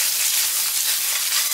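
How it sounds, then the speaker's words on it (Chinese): Aromatics hit the leftover oil in a wok after fish pieces have been fried, giving a steady, bright hiss of sizzling frying with no voices. "还是锅里的底油，倒入准备好的料头"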